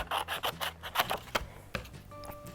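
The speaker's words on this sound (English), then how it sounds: "I'm gonna take my scissors and I'm going to cut two triangles" Scissors snipping paper into two triangles, a run of short crisp cuts and rubbing rasps coming close together, near and fairly quiet.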